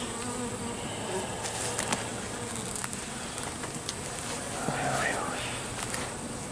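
Honeybees hum in a steady, dense drone inside an open hive, close and continuous, while a person speaks quietly over the buzzing.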